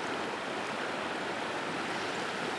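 River current flowing past rocks where a fisherman wades for smallmouth bass, a steady broad rushing wash of water, close and continuous with no voices.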